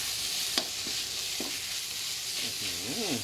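Northern Thai curry paste stir-frying in oil in a pan, a steady hiss with a few scraping spatula strokes and a quick wobbling clank near the end, close and unaccompanied by speech.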